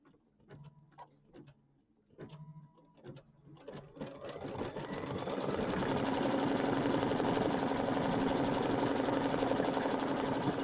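An embroidery sewing machine stitches placement lines for a quilted bench buddy square, starting with short separate bursts of stitches, then settling into loud, fast, continuous whirring and ticking close by.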